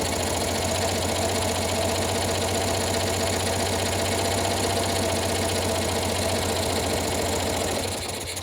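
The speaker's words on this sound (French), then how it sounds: "Moteur qui tremble." A small 18 hp engine idles roughly and shakes with the choke off, a steady close mechanical rattle and knocking hum that continues without voices until it fades slightly at the end.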